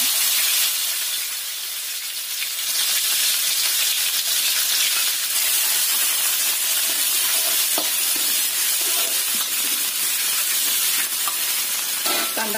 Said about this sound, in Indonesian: Kita tumis bumbu halusnya.